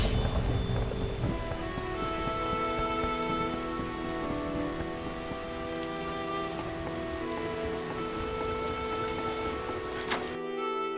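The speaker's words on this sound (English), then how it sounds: "Downpour." A heavy rain downpour in The Witcher video game hisses steadily as a dense, continuous wash of drops on surfaces, fairly faint and unbroken, ending with a brief sharp crack.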